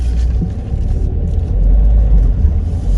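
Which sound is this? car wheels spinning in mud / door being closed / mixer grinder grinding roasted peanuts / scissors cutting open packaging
car wheels spinning in mud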